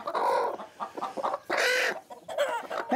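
A broody hen clucks and squawks in agitated bursts while being lifted, close and loud, with short pauses between the calls.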